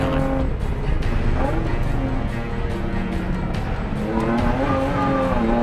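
A time attack race car held at full throttle on a circuit's back straight, its engine note climbing and falling through gear changes, loud and close, with harsh rising harmonics.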